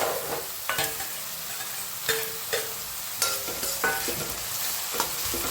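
Chopped onions fry in a pan with a steady close sizzle, punctuated every second or so by sharp clanks and scrapes of a spoon stirring against the metal.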